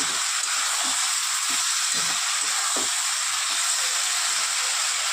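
Bhola fish and potato pieces with turmeric and a splash of water are sautéed in a pan, giving a loud, steady sizzling hiss that runs unbroken until an abrupt stop.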